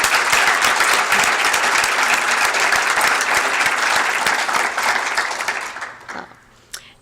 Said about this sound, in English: And once again, another round of applause for all our recipients.